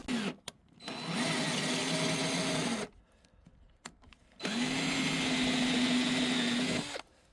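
A thread is tapped into a bolt hole on a VW's body for a bonnet strut mount. The tool whirs in two sustained runs of a few seconds each, separated by a quiet gap with small clicks.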